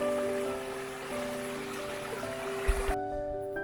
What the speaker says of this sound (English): Pennsylvania waterfalls, they're everywhere.